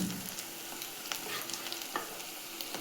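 Cooked oats porridge is stirred into a cooking pan mixture, giving a quiet steady sizzle with light, scattered stirring scrapes and no voices.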